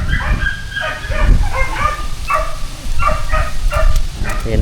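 A dog at a goat pasture gives a run of yips, whimpers and short barks, loud and close, repeating in uneven bursts over a steady outdoor background.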